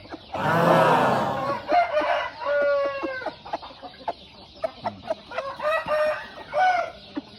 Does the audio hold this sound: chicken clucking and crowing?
yes